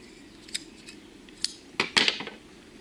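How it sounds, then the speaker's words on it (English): Scissors snip off the ends of a paracord knife lanyard, giving a few sharp, close metallic clicks and cuts that cluster toward the end of a quiet stretch. "So in order to safely cut off the ends, I recommend using scissors."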